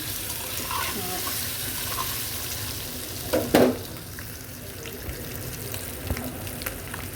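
Frying in a pan while making egg curry with zucchini: a steady close sizzle runs throughout, broken by a brief louder clatter of stirring near the middle and a few small utensil taps, with no talking.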